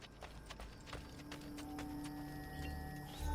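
Horse hooves clip-clop at a steady trotting rhythm in the Assassin's Creed Ezio trilogy game, fairly faint and mixed with light game ambience, with no talking.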